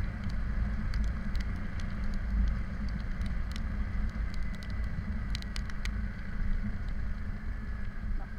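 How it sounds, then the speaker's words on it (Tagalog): Steady heavy rain drumming continuously on a surface, a dense broadband roar with scattered sharper drop impacts throughout. "nakabutan ng malakas sa ulan"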